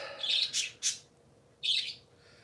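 Pet parakeets give quick high chirps and harsher squawks, a cluster of three calls followed by a pause and one more, close and clear with no voices.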